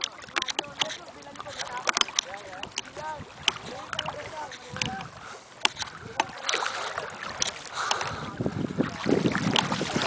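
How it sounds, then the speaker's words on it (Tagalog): A small boat moves across the water with splashing and wind buffeting the microphone, while people talk nearby. "At ito ang aming bangka"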